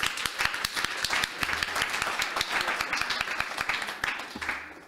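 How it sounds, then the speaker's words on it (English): Audience applause at a community musical Havdallah gathering, a steady round of clapping with distinct individual hand claps standing out, continuing evenly before easing off slightly at the end. "Let's give a round of applause for Eric over here"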